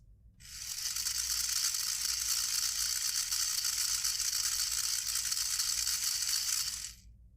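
A small DC motor, run under computer control, starts up and hums steadily with a bright whirring, mechanical rattle, then cuts off abruptly about seven seconds later. No voices are heard.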